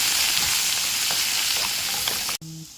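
Okra (ladies' fingers) frying in hot oil with salt and turmeric, a loud continuous sizzle with small pops and stirring scrapes, cutting off abruptly near the end into a short low hum.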